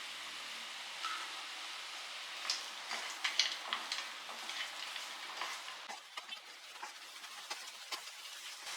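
Moong dal sweet is stirred in ghee with dry fruits, a faint, steady frying hiss with soft irregular ticks and scrapes of the spoon, no voices.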